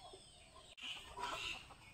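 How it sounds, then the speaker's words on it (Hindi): Free-roaming farmyard chickens near a village house cluck softly and steadily at a moderate distance, with a continuous outdoor background and no talk. "ये मुर्गियाँ सुबह सुबह उठ के"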